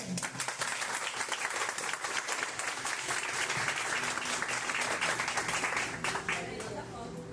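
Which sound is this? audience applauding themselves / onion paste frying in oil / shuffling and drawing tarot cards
audience applauding themselves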